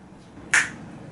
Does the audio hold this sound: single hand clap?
yes